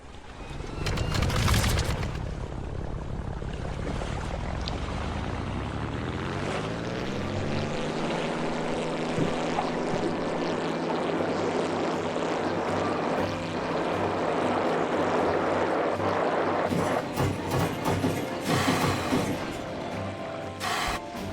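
A propeller aircraft engine drones steadily through a landing in a flight sim video game, its pitch dropping and settling into a lower hum, with bumps and rattles near the end as it touches down.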